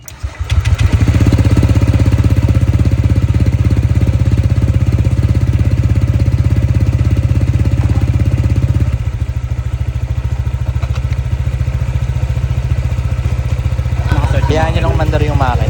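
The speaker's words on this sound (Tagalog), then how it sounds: "Start natin yung motor, bibleed natin ito." A Honda Click 125 scooter engine fires up and settles into a loud, steady, close idle that carries on throughout, with the pitch dropping slightly partway through and a voice speaking briefly near the end.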